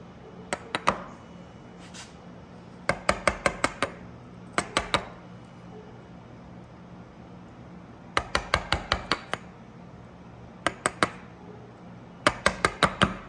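Chisel and mallet clearing waste from a dovetail pin board, delivered as quick bursts of sharp, ringing taps in clusters of three to six strikes, separated by short quiet pauses.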